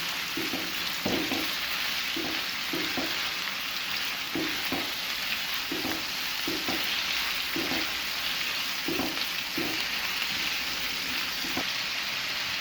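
Chicken frying on a medium flame gives a continuous, even sizzle like light rain, and a spatula scrapes and taps against the pan at irregular intervals throughout.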